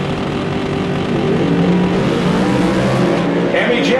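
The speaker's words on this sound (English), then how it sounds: "two of the best cars in the entire Chrysler drag racing world lined up side by side" Two Mopar Hemi drag cars lined up side by side at a Chrysler drag racing shootout roar loudly and continuously, engines building steadily, with no pause.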